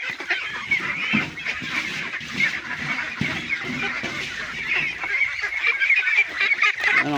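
Pet ducks eat azolla feed in a noisy flock, honking and quacking continuously up close with overlapping calls and scuffling.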